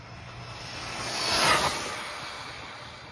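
A VIRCAS 1/12 brushless RC buggy runs at full throttle across a big open area, its high whine rising as it approaches and fading as it speeds away, a single pass by itself.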